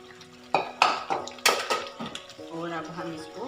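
Metal utensils clatter and scrape against a pan as fried chicken is stirred into creamy cooked masala, a few sharp knocks with speech over them.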